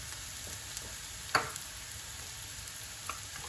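Mushrooms frying in a pan with curry powder for a Sri Lankan-style vegan mushroom fry give a steady, soft sizzle throughout, with one brief clatter partway through and a faint tap near the end.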